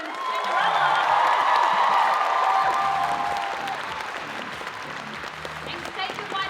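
A cosplay show audience at PAX Aus breaks into loud applause and cheering that swells for a few seconds and then fades, with a voice carrying on afterward.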